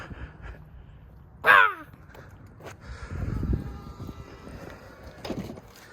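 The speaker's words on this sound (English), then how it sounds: "I think there's crows by my car." A single loud crow caw rings out, close by, followed by faint background rumble and a softer call later.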